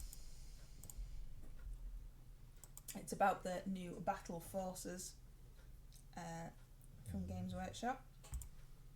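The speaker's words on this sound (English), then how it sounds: "If you can hear me typing, that's what I'm doing." Light clicking of computer keyboard keys patters faintly in the background, mostly masked beneath a person speaking in the foreground.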